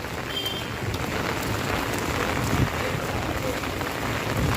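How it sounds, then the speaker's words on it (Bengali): Steady heavy rain falling outdoors on a polling day, a dense unbroken hiss of drops striking surfaces, loud and close throughout. "বৃষ্টি তো আরও বেলা হইতেছে, আরও দেখি বৃষ্টি বাড়তেছে"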